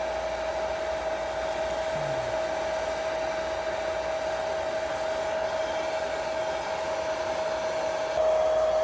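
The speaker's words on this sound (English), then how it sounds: "I'm trying to use my leg here to hold the dryer" A hair dryer blows steadily and close by during a front bumper graphics install on a 2004 Saturn Vue, a continuous even whir with a high steady whine, slightly louder near the end.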